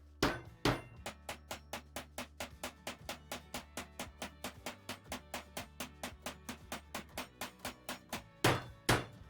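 A mallet hammer flattens the end of a metal piece resting on a wooden block, with about thirty sharp, evenly spaced close strikes in a steady rhythm and a few heavier blows at the start and end.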